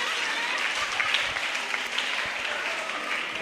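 A large audience at a women's conference claps steadily, a dense and sustained wash of applause filling the hall without a break.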